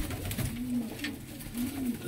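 Teddy pigeons cooing close by in a loft, a few low, soft warbling coos that rise and fall, with slight background noise between them.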